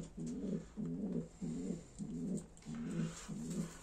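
Soft, low coos from Iraqi pigeons repeat in a steady rhythm, six rolling phrases close by, with faint background noise and no talking.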